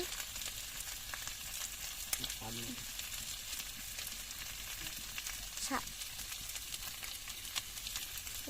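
Potatoes with salt and turmeric sauté in a pan, giving a soft continuous sizzle with occasional scraping stirs, while a voice speaks briefly over it.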